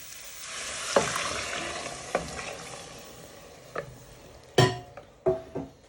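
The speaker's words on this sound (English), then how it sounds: "And you want to give it a good stir." A spoon stirring onions, garlic and potatoes in vegetable stock for carrot and coriander soup, a soft sizzle underneath with a few sharp clinks and scrapes against the pan, growing busier toward the end.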